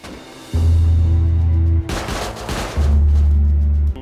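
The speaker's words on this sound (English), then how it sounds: "Gunfire erupts inside the base." Gunfire erupts inside a base in the video game Rust: two long bursts of loud, rapid automatic fire with a sharp crack between them, close and intense.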